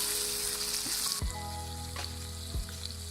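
Green chilli chicken fry sizzles steadily in a hot pan, loud and close, with occasional scrapes and knocks from stirring and mixing.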